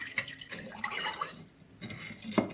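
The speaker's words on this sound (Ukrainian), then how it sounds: "Додаю воду кімнатної температури" Room-temperature water pours and trickles into a bowl with faint clinks of glass and dishes, irregular splashes close by and no talking.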